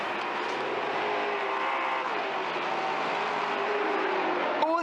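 Race cars, among them a Ford Mustang, roar steadily around the Sonoma circuit in a racing video game. The engine drone stays continuous and loud throughout, with an announcer commentating over it.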